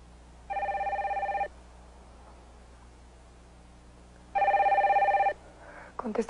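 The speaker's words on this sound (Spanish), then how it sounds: "Conteste en el teléfono del pasillo, por favor." An old-style telephone bell rings in a hallway, two long electric trills about a second each separated by quiet, with a faint clatter after the second ring.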